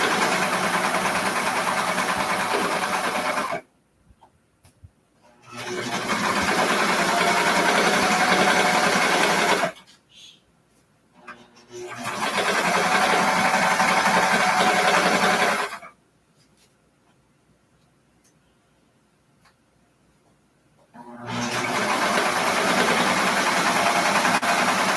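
A serger stitches the centre back seam of a garment in four loud, steady runs of rapid mechanical whirring, with short silent pauses between them.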